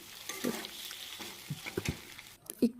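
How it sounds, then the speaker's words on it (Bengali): A quiet sizzle of an egg frying in a pan, with intermittent scrapes and taps of a spatula stirring. "এটাকে ভালো ভালো করে ভাজা ভাজা করে নিচ্ছি"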